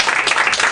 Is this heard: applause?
yes